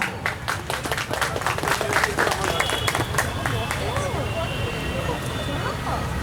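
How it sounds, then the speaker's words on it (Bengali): Audience applause fills a recital-festival hall in Baharampur's Rabindra Sadan, a dense continuous clapping from a large crowd lasting throughout, with a voice briefly heard amid it. "আমরা নিজেরাই নিজেদের জন্য একটু হাততালি দিই না"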